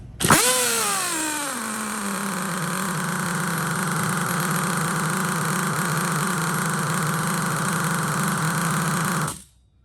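A Hot Bodies Stadium Pro 2 nitro RC truck engine with an LRP .32 motor, running rich on methanol fuel, fires up with a rising whine and then holds a steady, loud, buzzing idle for about nine seconds before cutting off.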